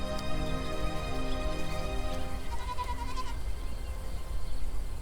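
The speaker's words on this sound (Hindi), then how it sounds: "मुझे एक बकरी मिली है सूखे कुएं में।" Goat bleating inside a dry well, set against a steady musical score; a wavering bleat rises above the music partway through, moderately loud.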